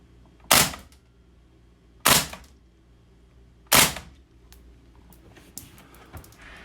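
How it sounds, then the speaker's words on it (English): Three sharp, loud shots spaced about 1.5 s apart from an Umarex VFC H&K PSG-1 gas blowback airsoft rifle, each a crisp crack with a short metallic blowback tail, followed by quieter handling clicks. "We're going to go ahead and shoot a few more rounds."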